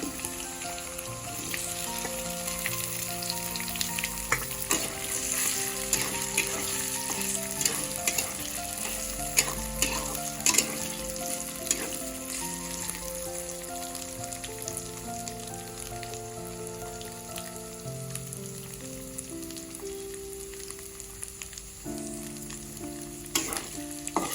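Sabudana khichdi frying with boiled potatoes stirred in gives a steady, close sizzle and crackle, with intermittent spoon scrapes and soft clinks against the pan throughout.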